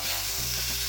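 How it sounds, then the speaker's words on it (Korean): Pork sears golden in a heavy pot with a loud, dense, continuous sizzle of frying fat, close up and steady throughout without any talk. "팩을 바깥쪽을 익혀서 노릇노릇하게 만든 다음에 그 다음에 쪄줄 거예요"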